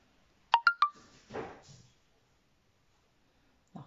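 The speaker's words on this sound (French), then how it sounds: "quand j'ai des messages, bien sûr, j'ai la petite sonnerie qui va bien, que vous entendez aussi" A short phone message notification chime of three quick bright tones, clean and close in a quiet room, followed by a faint softer rustle.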